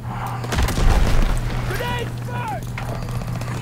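A grenade goes off in Call of Duty: WWII with a deep, heavy boom near the start that rumbles and fades under steady game noise, and a voice talks over the rest.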